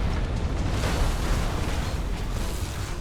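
Torpedoes detonate against ships in the video game Battlefleet Gothic: Armada 2, a sustained, heavy rumble of explosions with no talking.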